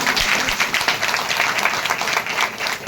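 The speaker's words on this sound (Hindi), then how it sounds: "जोरदार तालियां" An audience at a religious satsang gathering gives a round of applause, with dense, uneven clapping continuing throughout at moderate loudness.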